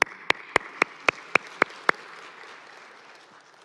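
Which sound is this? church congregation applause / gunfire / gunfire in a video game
church congregation applause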